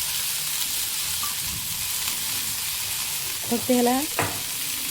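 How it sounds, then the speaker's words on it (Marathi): Bitter gourd frying in oil in a pan, a continuous hissing sizzle stirred with a spoon, with a brief bright scrape and a short spoken phrase near the end over the frying. "एकसारखं आपण चमचा फिरवत राहायचं आहे, एका बाजूने परतून एका बाजून कच्चं राहू नये"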